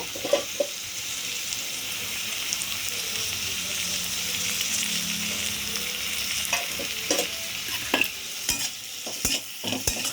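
Spices and salt for a fish curry are stirred through hot oil in a pan: a continuous close sizzle with scraping strokes of the spoon, growing busier toward the end with a few sharp knocks against the pan.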